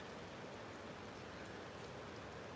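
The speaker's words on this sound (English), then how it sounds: "Oh, it's raining big time now." Heavy rain falling outdoors, a faint, even hiss of dense drops that stays constant throughout with no other sounds.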